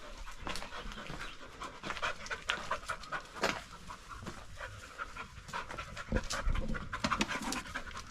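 A dog pants steadily at close range inside what may be a barn in rural Italy, a continuous rapid breathy rhythm at low volume with no talking.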